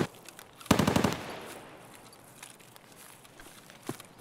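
A short, rapid burst of automatic gunfire in the Escape From Tarkov shooter game, loud and close, followed by fainter scattered sounds and a single distant shot.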